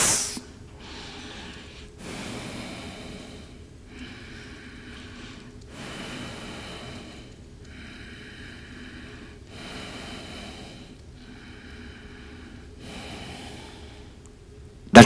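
Deep yogic pranayama breathing, a series of slow, airy inhalations and exhalations repeating in a steady rhythm, close and moderately loud against a quiet background.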